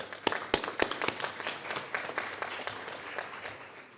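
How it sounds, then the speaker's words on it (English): Conference audience applauding during a plenary session, opening with a few sharp, distinct claps up close, then settling into a softer, steady patter of many hands from across the room. "I want to give you all a round of applause for your participation."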